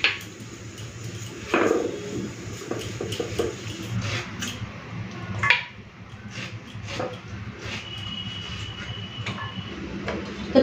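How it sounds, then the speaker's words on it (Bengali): A knife slices ash gourd (chal kumro) into thin strips on a board in a home kitchen, giving scattered quiet cutting ticks and knocks at an irregular pace with a faint background hum and no speech. "আমি এখন কেটে নেবো সরু সরু করে।"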